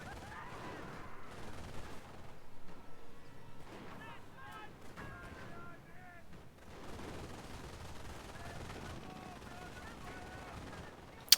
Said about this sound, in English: I always get more suppressed than this when I'm under machine gun fire